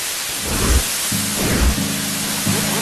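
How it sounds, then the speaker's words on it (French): A synthesized waterfall from the video game FEZ, made from white noise, plays as a steady, dense hiss with soft low thumps and a faint tonal hum underneath. "Prenons l'exemple du son de cette chute d'eau."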